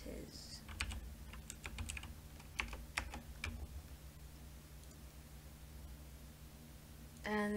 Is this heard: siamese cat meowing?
no